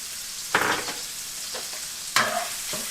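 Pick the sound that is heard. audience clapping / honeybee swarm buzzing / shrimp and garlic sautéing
shrimp and garlic sautéing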